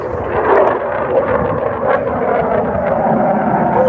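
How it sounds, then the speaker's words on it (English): A jet aircraft flying overhead on a morning run, heard as a steady, loud, broadband roar with no talking. "It's a jet."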